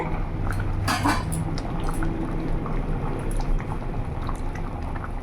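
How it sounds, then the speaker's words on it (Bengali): Thick dal bubbles steadily in a pot on a gas stove, a continuous close burble and plop with occasional clinks of a utensil against the pot. "কিছুক্ষণ ফুটিয়ে নিয়েছি, দেখতে পাচ্ছ পুরো গাঢ় হয়ে গেছে।"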